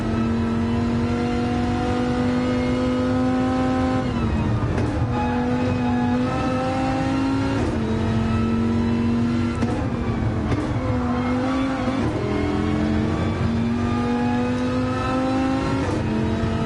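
Race car engine from a PS4 racing game roars steadily at high revs, with repeated gear shifts and pitch dips and climbs as the car brakes and accelerates through corners, loud and continuous without talk.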